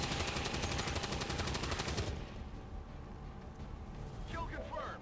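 A rapid burst of gunfire as a soldier shoots an enemy in the turn-based strategy game XCOM 2, a loud rattling volley lasting about two seconds, then quieter background sounds with faint voices.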